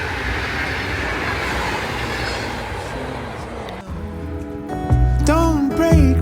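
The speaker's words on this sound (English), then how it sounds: "this is a train." A train passes close by with a steady rushing roar, then rhythmic clickety-clack and squealing wheels grow louder near the end, alongside a faint voice.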